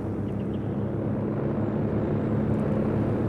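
Aircraft fly in for a strafing run in the strategy game Company of Heroes 2, heard as a steady, droning engine roar that stays even and close throughout.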